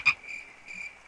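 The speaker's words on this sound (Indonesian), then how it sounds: "Juga suara kodok yang saling bersahut dari arah lapangan rumput" Frogs croaking from a grassy field, one short loud croak up front followed by softer, sustained trilling calls that answer each other, with no talk.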